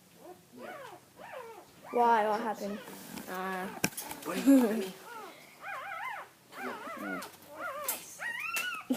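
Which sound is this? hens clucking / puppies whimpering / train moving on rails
puppies whimpering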